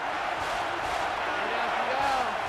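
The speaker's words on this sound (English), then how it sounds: "And this crowd is going absolutely crazy." A packed college football stadium crowd at LSU roars steadily during an Auburn–LSU playoff game on a third down, a dense, loud wash of cheering and yelling that holds without a break.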